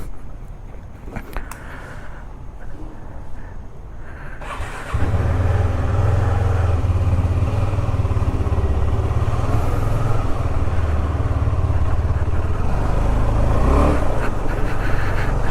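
A KTM Adventure 390 motorcycle on Bangalore streets, with quiet idle at first, then the engine revving up and a steady, loud riding drone with wind rush.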